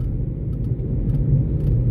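Steady low rumble of a car driving on the road, a constant droning road noise with no voices.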